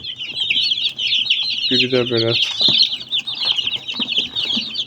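Broiler chicks cheep in a continuous high, shrill chorus close by, with a brief burst of louder clucking partway through and a short spoken phrase.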